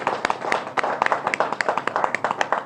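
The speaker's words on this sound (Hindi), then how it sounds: "तालियां।" An audience claps steadily and briskly, with many overlapping sharp hand claps forming a dense, even rhythm close by, with no talking over it.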